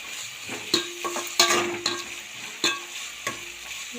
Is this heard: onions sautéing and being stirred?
yes